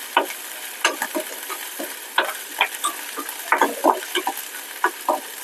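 Tempering spices fry in oil for coconut rice, with a soft continuous sizzle broken by frequent small crackles and pops and the light scrape of stirring, close up and with no talking.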